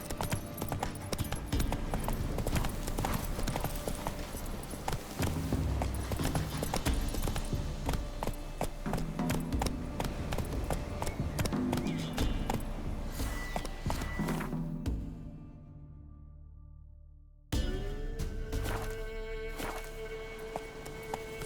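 Horse hooves clip-clopping in a rhythmic run in the video game The Witcher 3: Wild Hunt, loud and continuous over game music, dropping out briefly before resuming.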